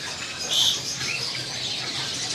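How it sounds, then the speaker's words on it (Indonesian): Parakeets at a bird-selling kiosk chirp and squawk in short, fairly faint high-pitched bursts against a steady background murmur. "Nah, ini ada burung parkit ya, pemirsa."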